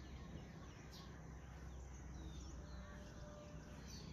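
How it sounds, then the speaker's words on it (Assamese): Faint birds, white-breasted waterhens among them, call around a house in scattered, distant chirps over a steady low background hum. "গোটেই ডাউক চৰাই ভৰ্তি হৈ আছে আমাৰ ঘৰখন"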